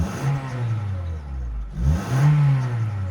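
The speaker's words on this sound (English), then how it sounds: "this is what a normal Honda Jazz should sound like." A stock Honda Jazz with its standard exhaust revs twice, with a steady mid engine drone rising and falling, close by and fairly loud.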